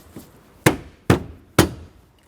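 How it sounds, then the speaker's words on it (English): Three sharp, loud snaps spaced about half a second apart as the clips of a Chevrolet Express knee panel are pushed into their slots, with nothing else audible in between. "It's got clips along the top that need to slide into these slots here."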